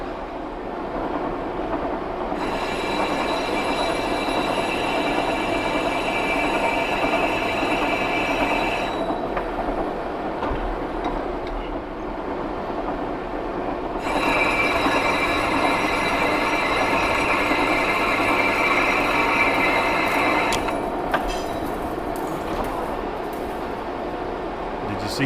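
A lathe cutting threads on a large hydraulic tube nut gives a steady, loud machining drone with two long stretches of high, squealing cutting tone, and a voice speaks over it.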